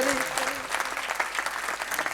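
Congregation applauding newly ordained priests at a thanksgiving first holy Mass, a dense, steady wash of clapping filling the church throughout, with a few voices briefly audible near the start.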